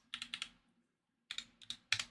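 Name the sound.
typing on a computer keyboard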